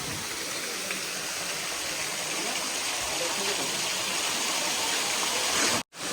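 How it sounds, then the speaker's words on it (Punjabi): Water of the Chambal River rushes down between high rocks at a waterfall, a loud, steady, close roar of flowing water that holds throughout and cuts off abruptly near the end. "ਤੇ ਚਟਾਨ ਦੇ ਵਿੱਚ ਦੀ ਆਉਂਦਾ ਇਹ ਪਾਣੀ"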